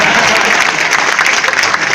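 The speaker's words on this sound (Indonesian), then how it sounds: "Tepuk tangan buat Kamidi." A comedy show audience claps for Kamidi in a dense, loud burst of applause that holds steady for the whole stretch, with a few voices mixed into the crowd.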